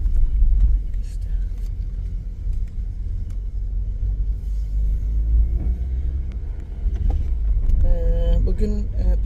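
A car whose brakes are making noise after sitting unused for a long time rumbles steadily at close range while driving, with faint high tonal squeals near the end.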